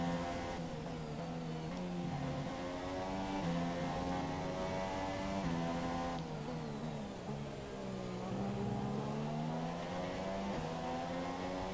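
A Formula 1 car engine in the racing game F1 2017 on PS4 revs hard and continuously, its pitch rising and dipping through gear changes as a loud, unbroken whine.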